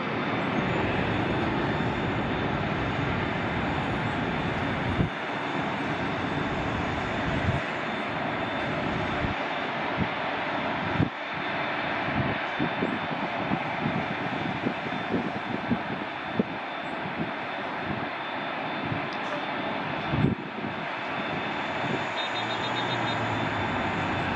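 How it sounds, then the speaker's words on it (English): Air Canada Airbus airliner at LAX, a sustained steady engine roar with a faint high whine, heard from a distance amid airport background noise, with no one talking. "Air Canada Airbus."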